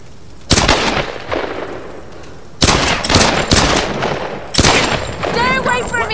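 Gunfire in the video game Tomb Raider (2013): loud, sharp bursts of shots in separate clusters, with shouting voices heard among the shots.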